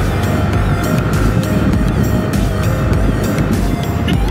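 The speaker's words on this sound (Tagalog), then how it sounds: "Sarap na ulit ibirit ito ng MSI." An MSi 125 motorcycle engine revs hard up close, a loud continuous buzzing roar with rising and falling pitch sweeps and sharp bursts of throttle.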